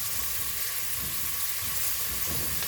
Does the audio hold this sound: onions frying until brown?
yes